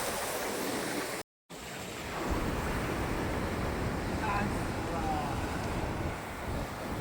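Sea waves at Arjipalli beach roll in a continuous loud wash with wind buffeting the microphone, one brief dropout partway through, and no voices heard.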